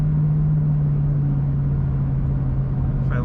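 A 2005 Dodge Ram 1500 SLT Daytona 4x4 pickup drives along with a steady, loud engine drone and low rumble, a constant hum holding even throughout with no voices.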